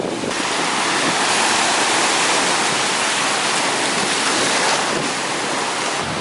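Atlantic Ocean surf breaks and washes ashore at Atlantic City, a loud, continuous roar of waves mixed with wind buffeting the microphone, with no one speaking.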